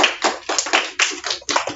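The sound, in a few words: applause for a child after a poem recital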